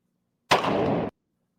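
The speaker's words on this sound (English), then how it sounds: "That was a cannon?" A single loud, sharp cannon blast bursts out of silence and cuts off abruptly after about half a second.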